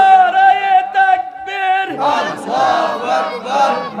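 A large crowd at a Bangla religious sermon gathering in Habiganj shouts a response in unison after a solo voice calls out, the massed voices loud and close, rising in several surging waves.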